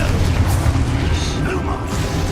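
A Confringo blasting spell goes off in Hogwarts Legacy, a loud continuous rumbling boom with bursts, dense and close throughout, with a voice present over it.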